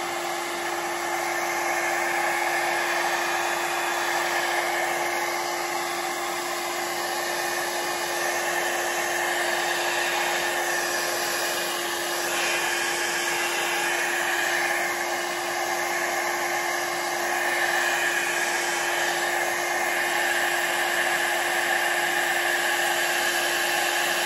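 A heat tool blows steadily onto an alcohol ink and resin painting, producing a constant loud whirring hiss of fan and hot air that runs unbroken throughout.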